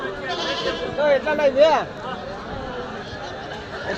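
Sindhanur ram lambs bleat at a busy goat and sheep market, a few short wavering calls rising over constant crowd chatter and bargaining voices.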